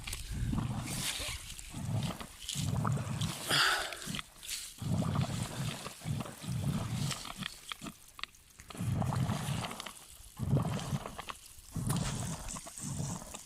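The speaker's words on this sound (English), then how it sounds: "It must just be like bubbling." Irregular bubbling and gurgling water coming in uneven bursts, fairly close, with low churning pulses and brief pauses between surges, on a trekking trail in Jardín, Antioquia, Colombia.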